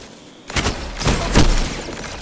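Gunfire in the video game Destiny 2: a few sharp, loud bursts fired in quick succession after a quiet moment, with faint background game ambience.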